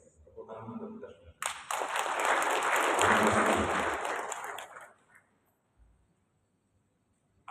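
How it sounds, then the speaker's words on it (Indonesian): At a notary inauguration ceremony in East Java, the audience breaks into applause after a brief spoken line, a swelling wave of clapping that holds for about three seconds and then fades to near silence. "Tepuk tangan untuk kita semua."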